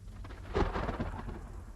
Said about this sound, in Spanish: Ya era una tormenta, y los relámpagos se encargaron de hacerlo notar.